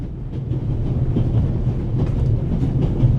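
A train runs through the Alps in The Raven video game, heard from inside as a steady low rumble with soft, regular rail clatter and no voices.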